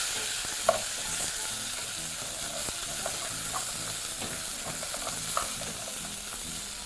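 Goat rib fat fries steadily in an uncovered pan as it is stirred, a dense continuous sizzle with occasional soft scrapes and clacks of the spoon.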